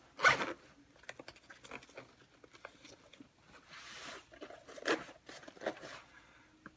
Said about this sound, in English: So I'll go ahead and close this up.